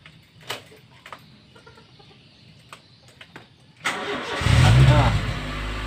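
A car parked for about 20 days is started, with quiet clicks and a rooster in the background before the starter cranks and the engine catches, rising into a loud near idle.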